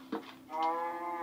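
A cow mooing in the Minecraft video game, one short drawn-out low moo, clear and alone.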